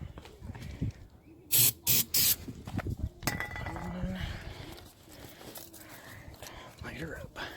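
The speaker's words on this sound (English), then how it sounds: "We're gonna use a little bit less spray." Several short bursts of aerosol spray hiss in quick succession, close by, as spray goes onto a tire for explosive bead mounting, followed by a single voice talking with clinks and shuffling.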